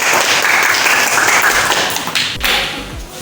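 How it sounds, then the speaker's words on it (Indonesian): Applause in a classroom teaching session, a broadband patter of clapping that carries steadily across the clip, with a few louder thumps near the end. "Tepuk tangan."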